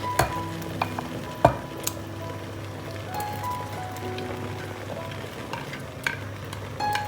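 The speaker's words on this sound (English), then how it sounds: "add in my blended pepper, tomato, onion and ginger to the soup" Blended pepper, tomato, onion and ginger go into a simmering Ghanaian peanut butter soup, giving a steady low sizzle with scattered clicks and taps of utensils against the pot, moderately loud and without speech.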